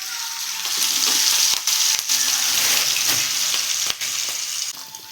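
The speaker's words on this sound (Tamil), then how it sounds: "எண்ணெய் காஞ்சதும் பசஞ்சு வந்து மீனை எடுத்து போடணும்" Small netholi fish fry in hot oil in a kadai, crackling and sizzling loudly and steadily at close range, with a few sharp clicks and spatters scattered through.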